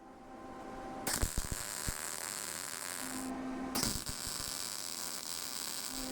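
Tack welds on a rusted propane tank sculpture, two steady electric buzzing bursts of a few seconds each with a short gap, close and loud over a humming background, no speech.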